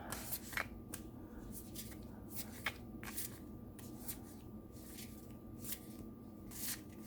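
Tarot cards are shuffled, likely from the Unfolding Path Tarot deck, in a steady series of crisp papery riffles and slaps, close and clear with no talking.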